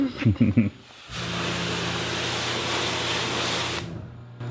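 A voice speaks briefly, then a steady, loud hiss of water spraying to rinse a car wheel runs for several seconds before cutting off.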